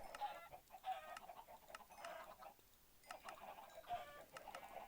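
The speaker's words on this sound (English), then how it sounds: "let's go ahead and kill a bunch of these chickens" Chickens in the Minecraft video game cluck in short repeated bursts, several calls spaced through a few seconds, fairly quiet and clear with no talk over them.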